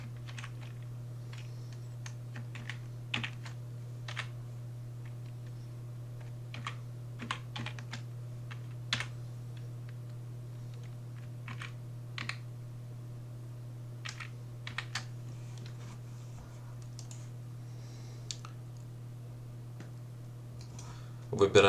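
Sparse keystrokes on a computer keyboard as a code is entered, faint scattered clicks over a steady low electrical hum.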